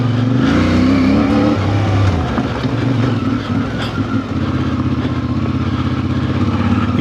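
2026 CF Moto IBEX 450 motorcycle pulling away off-road in second gear with some clutch slip, a loud close engine drone that revs up, dips briefly, then climbs again steadily.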